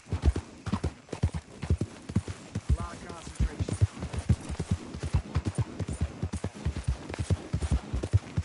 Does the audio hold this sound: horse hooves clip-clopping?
yes